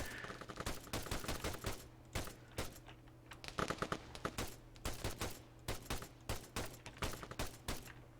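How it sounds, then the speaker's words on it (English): Rapid bursts of automatic gunfire from the video game Arma 3, loud repeated volleys of close shots in quick rhythmic clusters with brief gaps, continuing throughout with no talk. "Oh, no, he's shooting at my guys."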